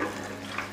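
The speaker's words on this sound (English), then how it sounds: "I'm gonna pour the water in here because it's just gonna help cycle the tank eventually" Tank water is poured into an Oase Filtosmart Thermo 200 aquarium filter, making a steady, close, continuous splashing rush without pause.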